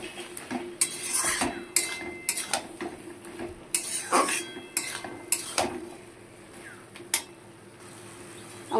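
A utensil clinks and scrapes against a pan while bottle gourd greens are stirred with a little sugar, giving irregular close metallic taps and scrapes over a soft, low sizzle.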